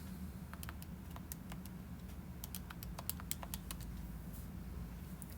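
Fingers tap keys on a computer keyboard in a quick, irregular run of light clicks over a low steady hum, close and soft, with no talking.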